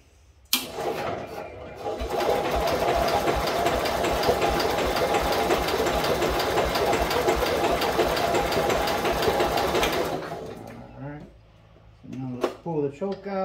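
An old engine, started with the choke pulled while it has a no-crank issue, runs loudly and steadily for about nine seconds with a rapid knocking rhythm, then cuts out, and a person speaks afterward.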